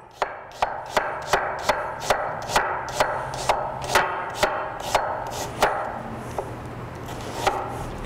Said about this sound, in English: cut your onion in half and then just slice it.